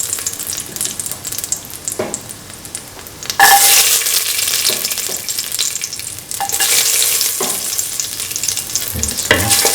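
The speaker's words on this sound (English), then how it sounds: "Spread the clarified butter or ghee in the pan. Put in the cashew." Cashews frying in clarified butter (ghee) in a pan sizzle loudly, with stirring scrapes. A sharp burst of hiss comes a few seconds in, and the sizzle stays strong to the end.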